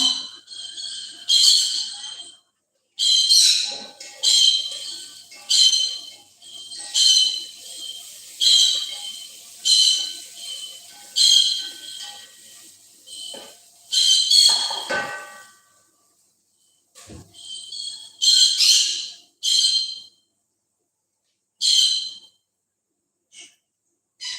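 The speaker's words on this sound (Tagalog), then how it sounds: "Itong ibon nasa kitchen." A pet bird in a home kitchen calls over and over in loud, bright, whistling bursts, each lasting about a second, with short gaps between them and a longer pause partway through.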